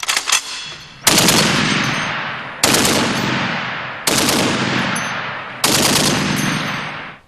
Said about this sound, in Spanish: Actualmente es la ametralladora más temida en el campo de batalla.